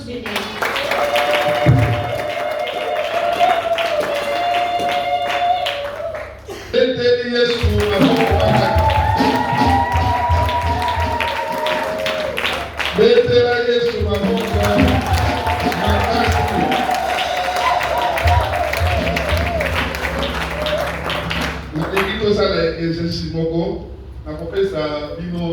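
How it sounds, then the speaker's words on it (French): A church congregation claps and cheers in praise after a Bible reading, a loud, sustained burst of applause with voices and music mixed in that swells for long stretches and keeps going throughout. "On acclame la parole du Seigneur."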